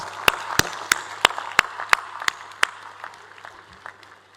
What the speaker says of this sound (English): Let us welcome my dear student Sudhir Bhai with a very, very warm applause.